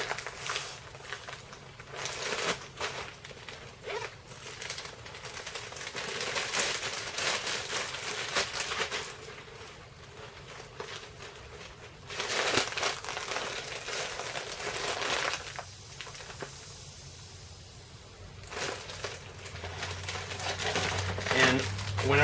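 Toilet paper being stuffed into a plastic Ziploc bag for a dollar-store survival kit, giving a steady run of close crinkling and rustling plastic with brief pauses.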